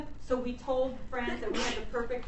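A single sharp sneeze bursts out in a classroom during a history lesson, cutting in between stretches of a teacher talking.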